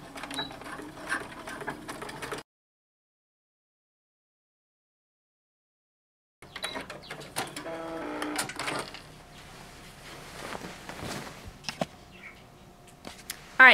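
Sewing machine stitching a dirndl skirt onto its waistband with a half-inch seam allowance, running in bursts with a quiet pause in between, close and clear with no talking.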